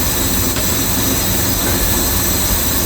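A loud, constant mechanical roar of a Jaguar XJ6 Series 1 engine idling, a dense broadband hum, steady throughout with no pauses or speech.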